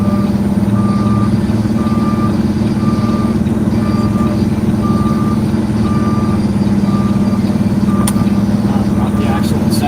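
A truck reverses off a road with a loud, steady engine rumble, while its backup alarm beeps in an even, regular rhythm about twice a second for the whole stretch. A voice can be faintly heard underneath.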